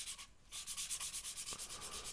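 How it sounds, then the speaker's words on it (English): Wood on a lathe-turned piston box sanded along the grain by hand, a steady rhythmic rasp of repeated back-and-forth strokes, close and fairly quiet, with a brief pause near the start. "It's always good to follow up with sanding with the grain like this."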